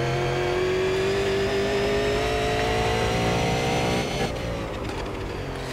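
A Super Late Model race car engine in iRacing drones steadily and loudly near its rev limiter, holding a high buzzing pitch for several seconds before easing slightly toward the end, with no talk.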